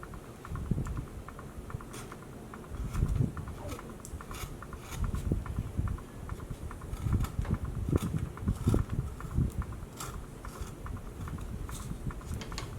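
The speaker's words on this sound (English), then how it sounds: "Just digging in there with a little bit smaller gouge and smaller gouge." A small gouge digs into wood while a cowboy caricature is carved, giving quiet, irregular scraping clicks and short cuts in uneven bursts.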